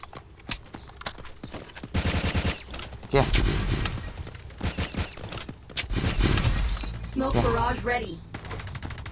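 Rapid bursts of automatic gunfire from the online shooter Delta Force, dense and loud across the whole stretch, with overlapping shots, impacts and in-game voices.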